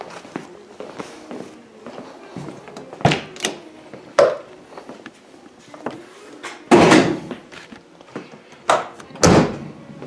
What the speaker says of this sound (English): Let's pop the hood open again and see.